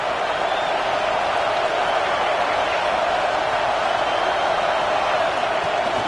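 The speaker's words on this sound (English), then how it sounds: "this home crowd is fired up and ready to make a difference today" A home crowd roaring at a college football game in a Madden/NCAA video game, a steady, dense wash of crowd noise holding at an even level without pause for several seconds.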